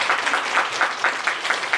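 Audience applause at an indoor book concert and publication celebration, with steady, moderately loud clapping from a crowd throughout.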